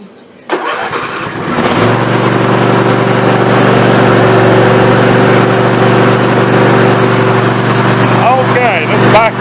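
A Snapper riding mower converted from an electric control system to manual start, run with a little choke, cranks briefly and then settles into a loud, steady, droning engine idle that continues throughout.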